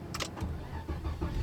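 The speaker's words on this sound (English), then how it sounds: "So let's go ahead and start the car and see what happens." A 2006 Volvo S80 T6 with a faulty instrument gauge cluster cranks briefly and catches, settling into a low, steady engine rumble heard close up.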